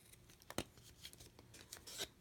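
Paper card flaps are trimmed close by, producing a few faint, quick snips and rustles with a sharper cut at the start and another toward the end.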